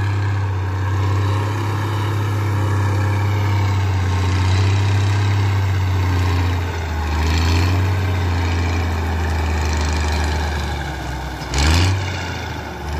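A Valtra 1280E tractor engine runs at a steady, deep idle. The low, continuous rumble holds evenly close by, with a brief bump near the end.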